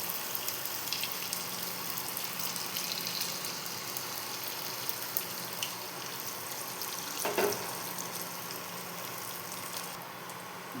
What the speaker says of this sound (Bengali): এগুলো ডিপ ফ্রাই হবে তো বেশ খানিকটা তেল দিতে হবে।